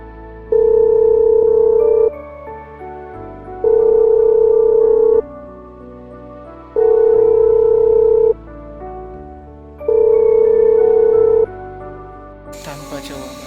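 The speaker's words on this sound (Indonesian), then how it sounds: "Panggilan pertamaku berdering." An outgoing phone call rings four times, each a long steady tone followed by a pause in an even rhythm, loud and close, with a short noisy burst at the end.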